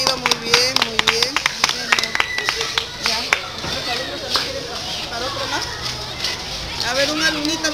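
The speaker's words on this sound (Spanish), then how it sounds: "Un aplauso para la niñita que ha respondido" A children's class bursts into clapping for a little girl who answered a question about healthy lunchboxes, bright scattered claps mixed with an adult voice speaking and kids' chatter over it.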